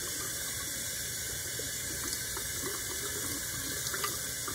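Water pours steadily from a tap as tie-dyed fabric is rinsed, a constant close splashing rush with small drips and gurgles and no talking.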